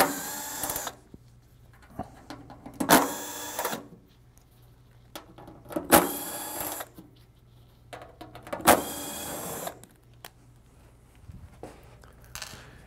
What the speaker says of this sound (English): So I'll take these front screws out first.